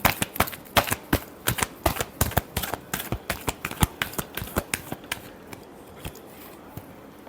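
Tarot deck being shuffled by hand nearby, a fast regular train of sharp card slaps and riffles that thins out and slows toward the end, with no speech.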